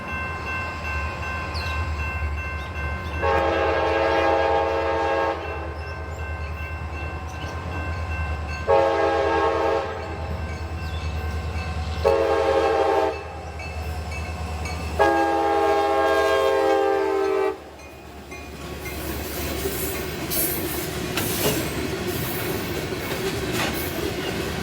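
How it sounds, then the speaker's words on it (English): An SD40-2 diesel locomotive rumbles past pulling a freight train on the CSX Saginaw Subdivision, sounding repeated loud horn blasts in several bursts over the steady engine drone and rolling wheels. "I saw an SD40-2 pulling freight on the Saginaw sub"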